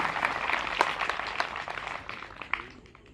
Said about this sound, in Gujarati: એમનું પણ આપણે જોરદાર તાળીઓ નાદથી બધા સ્વાગત કરીશું